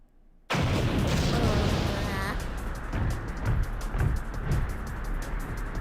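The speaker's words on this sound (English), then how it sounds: "It sounded like an explosion." A sudden loud explosion in the video game Blue Archive erupts from silence into a sustained roaring, rumbling blast, with repeated pops and bursts continuing afterward.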